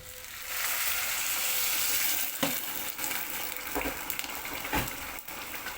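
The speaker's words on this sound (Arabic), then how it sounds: "راح نازله عليه بالميه السخنه" Hot water poured over mackerel in a pan, a steady hissing sizzle and splashing rush that fades into softer bubbling with a few clunks.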